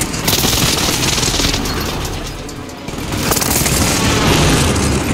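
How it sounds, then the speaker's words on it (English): Precision airstrike explosions in Call of Duty Warzone, on the Rebirth map, come as a loud continuous rumble of booms and rapid blasts, dipping briefly midway and then swelling again, with no talk over them. "Alloy precision airstrike incoming."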